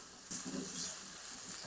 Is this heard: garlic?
yes